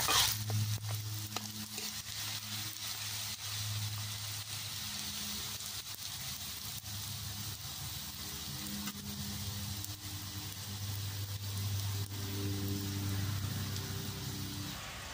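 Semolina kurkure snacks fry in oil with a continuous crackling sizzle close by, the bubbling steady over the whole stretch with occasional stirring clatter and no voices.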